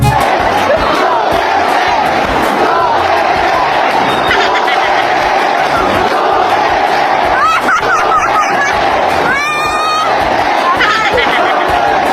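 A crowd at a Philippine political rally keeps up loud, sustained chanting and shouting, a dense mass of voices with a few louder yells near the end.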